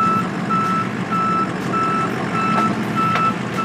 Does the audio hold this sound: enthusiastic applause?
no